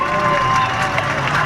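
A crowd at Riverside Park Speedway cheers and applauds steadily after a NEMA midget car feature race. The noise is loud, continuous and sounds like a large grandstand, with no clear voice standing out.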